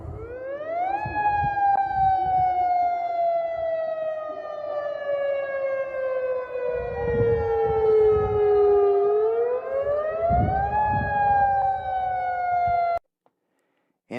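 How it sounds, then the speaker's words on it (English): A civil defense siren sounds a tsunami warning, its rising and falling wail sweeping steadily and loudly for about thirteen seconds before cutting off abruptly into silence. "Tsunami warning. Evacuate."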